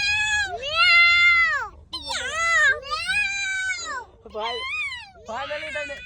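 A voice imitates a cat, drawing out several rising and falling meows in a row, loud and close, with short pauses between them.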